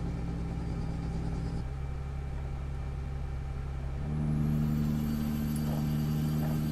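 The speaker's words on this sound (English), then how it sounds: "my exhaust brake worked." Truck engine in Euro Truck Simulator 2, a steady low rumbling drone whose tone shifts partway through as the exhaust brake engages, with a rising high whine near the end, no voices.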